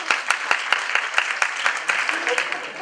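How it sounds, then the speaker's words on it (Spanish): Audience at a Valencian Circus Association cabaret tribute clapping in a steady, fairly even rhythm of distinct hand claps, moderately loud with some crowd murmur beneath. "Aplausos."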